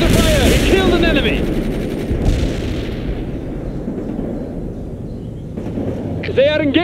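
Gunfire in a combat mission of a video game; dense, continuous bursts of automatic fire and explosions rumble loudly throughout, with shouted voices and radio chatter mixed in.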